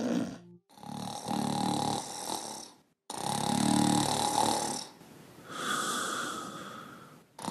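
A person snoring in long, loud, rasping snores with a snorting rattle, three drawn-out breaths separated by brief silent pauses, close and alone with no talk.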